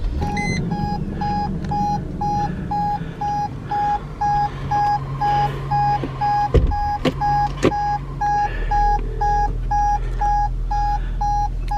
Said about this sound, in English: seatbelt buzzer keeps buzzing.